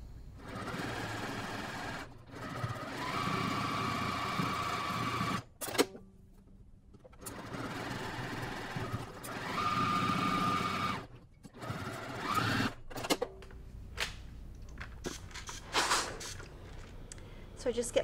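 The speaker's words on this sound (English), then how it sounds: "take this little piece to the sewing machine and stitch it together" A sewing machine stitches a quilt block together in several bursts of rapid mechanical whirring, separated by short pauses, with a voice talking at times in between.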